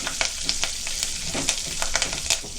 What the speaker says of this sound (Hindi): करी पत्ता ज्यादा डालेंगे, 2 डाली डाले हमने